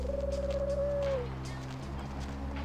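A pigeon coos in the Vampire: The Masquerade – Bloodlines video game, a single drawn-out tonal call that fades after about a second over a steady low ambient hum.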